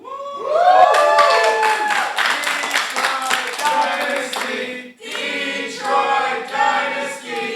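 A live wrestling crowd claps and cheers loudly, with shouted chants and voices rising over steady rhythmic clapping, a brief dip midway before the noise surges back.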